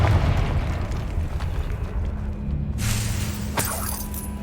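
A Confringo blasting spell going off in the Hogwarts Legacy video game: a loud rumbling blast that fades, then a sharp crack and burst of noise near the end, with no talking.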